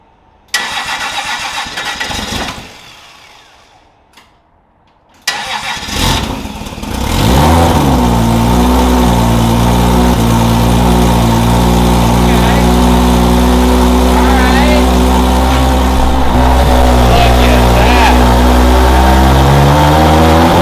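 A Toyota 2JZ engine swapped into a BMW E36 cranks in short bursts, stalls, then catches and settles into a loud, rough running note with rising revs, up close and dominating.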